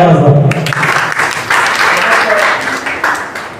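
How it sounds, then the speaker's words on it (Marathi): Audience applause at a Marathi poetry recital event, a steady wash of many hands clapping at moderate loudness for several seconds, with some voices mixed in. "एकदा त्या सगळ्यांसाठी टाळ्या वाजवा."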